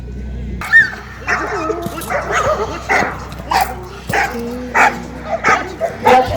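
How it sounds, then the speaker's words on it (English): A police K9 assault dog barks close and loud at a decoy in repeated sharp bursts with short gaps, mixed with excited yips and whimpers. "Watch how the decoy agitates the assault dog."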